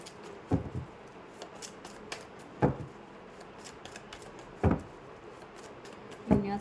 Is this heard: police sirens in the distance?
no